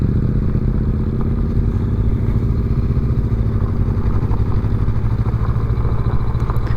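A rented motorcycle rolls slowly over a gravel road in Tennessee, its engine a steady close low drone with light crunching and clatter beneath, continuous throughout without talk.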